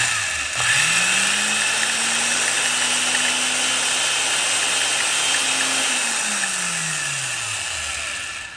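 A 75-year-old Van Dorn electric drill running slow with high torque, its loud motor whine rising in pitch as it spins up, holding steady, then winding down at the end, close and continuous with no talking.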